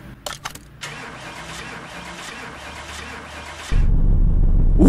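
Dodge Challenger R/T in Car Mechanic Simulator 2018: a few clicks, a whirring starter cranking for about three seconds, then the engine catches into a loud, deep, rumbling idle.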